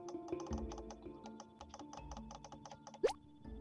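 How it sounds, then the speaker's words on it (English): Mouse clicks while playing a computer game: a rapid, uneven run of close, loud clicks over a low background hum, with a brief higher squeak near the end. "I have to click everywhere, so I apologize for the"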